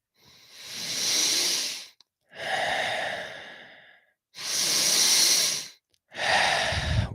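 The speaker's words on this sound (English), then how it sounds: "Keep breathing deep into the belly, into the chest, and let it go, feeling the rhythm of each breath." Deep, rhythmic breaths during a guided breathwork exercise: four long, loud inhales and exhales close to the mic, separated by short pauses, with no talking.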